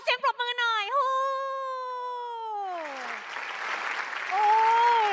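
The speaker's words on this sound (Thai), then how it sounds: "ขอเสียงปรบมือหน่อย" At a Japan Expo stage show with the Chiba Prefecture mascot, a high, wavering vocal call gives way to a burst of crowd applause that swells and carries on to the end.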